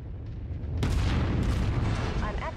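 Heavy mech weapons firing in the Mechwarrior 5 video game, a sudden loud booming blast that rolls into a sustained roar of fire, close and dense, with a voice briefly heard near the end.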